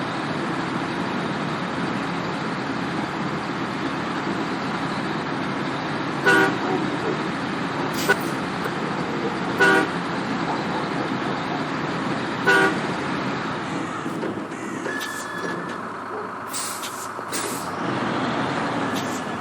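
A truck horn honks in the Snowrunner video game, several short toots spaced a few seconds apart over a steady engine drone, with a longer tone near the end.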